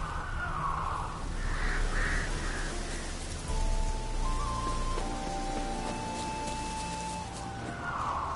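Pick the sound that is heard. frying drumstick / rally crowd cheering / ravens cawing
ravens cawing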